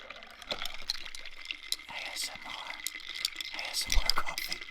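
Cold brew coffee concentrate from Trader Joe's pours over ice in a glass, making a soft, continuous trickle with faint clinks across the whole stretch. The sound is close and quiet, and no one speaks over it.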